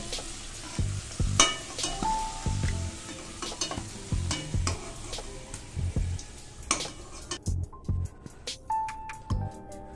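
Bay leaves and dried red chillies dropped into hot oil for a mutton curry, sizzling close with loud irregular clatter of stirring and scraping in the pan, no voices.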